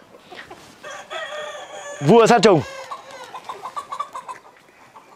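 Chickens cluck and call throughout a poultry farm barn, with a loud close rooster crow in the middle and a busy flock chattering behind brief speech.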